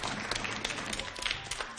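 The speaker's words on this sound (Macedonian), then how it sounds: "еве го, еден аплауз" Applause from a group of children, a dense, steady patter of many hands clapping throughout at moderate volume, with no voice over it.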